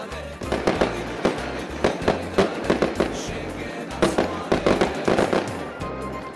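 Fireworks burst at night on a trip in Georgia, a rapid series of sharp cracks and booms, some close and loud, others further off, popping irregularly throughout.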